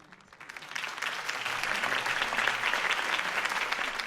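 Applause in a Batman video game rises quickly from near quiet into sustained clapping from a crowd after a campaign speech, steady and fairly loud to the end.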